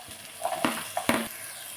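Capsicum hits hot oil in a pan where onion and green chilli are already cooking for street-style egg rice: two short bursts of frying and stirring over a soft, steady sizzle.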